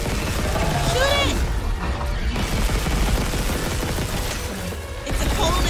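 Rapid gunfire from the Dead Space Remake video game, loud bursts of shots with mechanical clanks and rumbling, while a player talks over parts of it.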